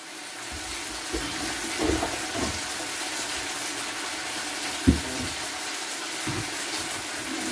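Water and noodles pour into a colander in a kitchen, a steady rushing drain with a few soft knocks and one sharp clunk, close and moderately loud.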